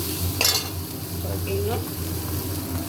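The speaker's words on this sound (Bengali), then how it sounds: "ওই দুটো লঙ্কা ফোড়ন দিলাম" Two chillies tempered in hot oil, sizzling and spitting as they hit the pan, with a sharp burst of crackle near the start, then a steady frying hiss and a brief scrape of stirring, close-up.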